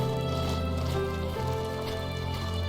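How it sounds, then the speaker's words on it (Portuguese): Rain falling over an icy area in a fox video game, a steady soft patter with a sustained game music drone and tones layered beneath it throughout. "Tá chovendo em um lugar de gelo."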